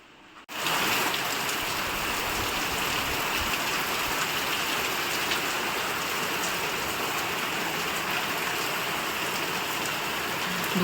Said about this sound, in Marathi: 2 मिनिटापूर्वी पाऊस कमी होता आणि आता बघा पाऊस वाढला किती